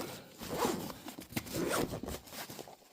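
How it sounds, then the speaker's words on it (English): A zipper is drawn shut on a Pokémon card submission case, a close, scratchy run of zipping in a couple of pulls over a few seconds, heard alone. "Zip it up."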